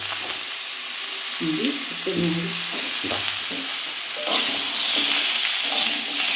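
Ripe pumpkin pieces sizzle steadily in a pan as a utensil stirs them in short scraping bursts, with the frying hiss growing brighter toward the end.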